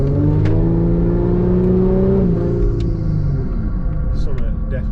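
A Volkswagen Touareg with a stock V6 engine revs and accelerates in loud, close, continuous rumbling, its pitch climbing and then easing off.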